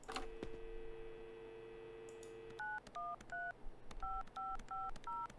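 A phone handset in the video game Adios emits a short beep, then a steady tone, then a quick run of about eight dialing tones in an uneven rhythm, clean and close.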